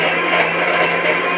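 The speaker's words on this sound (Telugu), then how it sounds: "తర్వాత గ్రైండ్ చేసుకోవాలి." A mixer grinder whirs steadily as it blends ridge gourd chutney ingredients in a mixie jar, a loud continuous motor whine holding even for the full second and a half.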